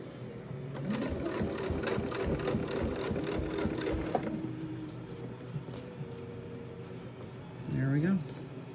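A sewing machine stitches a jelly roll placemat in rapid, steady bursts of mechanical chatter that stop partway through, followed by a short burst of speech near the end.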